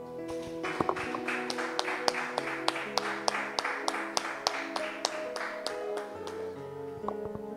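Church congregation clapping together in a steady rhythmic applause, many hands beating in time with music playing underneath, moderately loud and sustained for several seconds.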